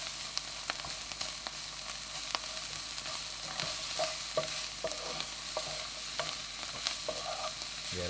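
Mushrooms brown in a hot pan with a continuous close sizzle and crackle, broken by scattered pops and the occasional scrape of a utensil through the pieces.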